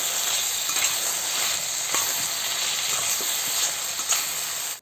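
Salted brinjal pieces frying in oil for a sambar, a continuous close hiss and sizzle with small pops, steady throughout.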